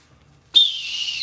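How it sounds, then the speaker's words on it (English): A shrill whistle is blown once and held as a long, loud, steady tone that starts abruptly after a brief near-silence. "This whistle don't work."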